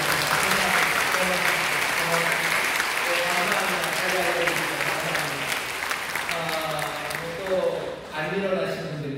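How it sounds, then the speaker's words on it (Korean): A church congregation claps warmly during a Friday evening service, sustained applause from the pews under a voice and tonal music or singing woven through the clapping. "뜨겁게 박수해 주세요."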